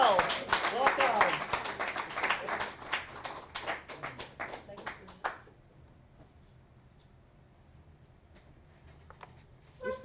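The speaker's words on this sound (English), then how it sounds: "Let's give a big, warm round of applause for Michelle Parkerson!" A festival tribute audience claps and cheers for a guest for about five seconds, a dense patter of hands that breaks off abruptly into near silence, with a faint stir of the room returning at the end.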